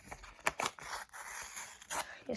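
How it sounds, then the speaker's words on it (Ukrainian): Paper crinkles and tears in short irregular bursts, close up, with a few louder rips as a packet is pulled open. "давайте відкриємо наш перший пакетик"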